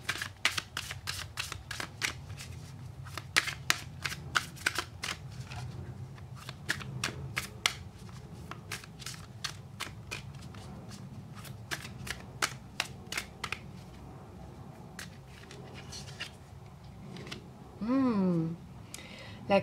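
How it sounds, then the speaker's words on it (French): Oracle cards are shuffled and drawn during a tarot-style reading, making sharp, quick riffling clicks in irregular bursts across the stretch, with faint background sound and a short squeaky noise near the end. "Alors on va prendre une carte du Sweet Ladies pour compléter le tirage."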